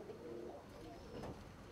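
Soft, low cooing of satinette pigeons, an old frill breed, close by, a few murmured coos against a quiet background.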